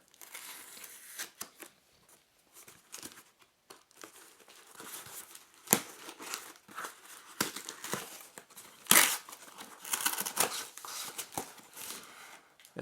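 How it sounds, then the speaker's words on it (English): Sticky tape on a cardboard box is cut and torn open by hand, giving irregular crinkling, ripping and rustling bursts with sharper tearing snaps in between, close by and without speech. "cutting apart the sticky tape that's keeping the box securely sealed"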